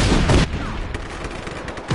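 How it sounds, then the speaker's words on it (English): Heavy cannon fire in the Just Cause 3 video game, a loud booming blast followed by rumbling explosion noise and a second sharp blast at the end. "I bet the cannon still works."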